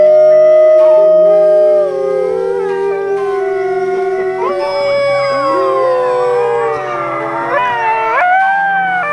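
Several red wolves at a sanctuary howling together in long, wavering overlapping tones, loud and close, with higher yips and rising howls joining toward the end.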